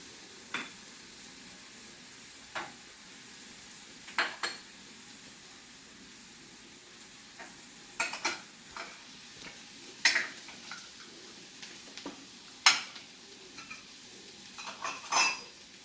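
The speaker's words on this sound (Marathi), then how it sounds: "थोडा वेळ हे परतून होऊ दे, थोडंसं गुलाबीसर होऊ दे." Tiny prawns and garlic sauté in a pan with a soft background sizzle, broken by scattered sharp clinks and scrapes of a spoon against the metal pan, irregular and close.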